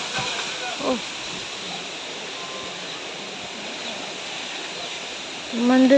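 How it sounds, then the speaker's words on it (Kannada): Strong wind blows steadily through a home garden where coconuts and mangoes have fallen, a continuous hissing rush like flowing water, with a brief exclamation and a few faint bird calls above it. "ತುಂಬ ಜೋರು ಗಾಳಿ ಬರ್ತುಂಟು"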